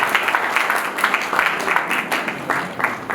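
Audience applause welcoming a guest at a Seva Bharati Haryana event, a steady wash of many hands clapping at moderate distance, with occasional louder claps standing out and no voices on top.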